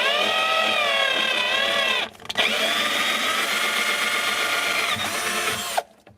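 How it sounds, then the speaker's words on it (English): A power drill bores a hole to mount a reverse osmosis water filter system, whining steadily and loudly up close, pausing briefly once, then resuming before stopping abruptly near the end. "So I'm going to drill the hole."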